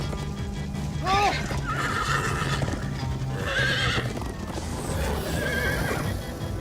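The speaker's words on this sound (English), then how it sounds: "Slow down, horse!" A horse whinnies several times over a steady rumble of hoofbeats, with game-like music and effects underneath, from Minecraft: Story Mode.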